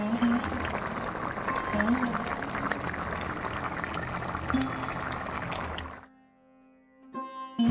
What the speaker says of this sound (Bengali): মাছটা দিয়ে জল দিয়ে ঢেলে দেবো, দিয়ে ভালো করে ফুটিয়ে নেব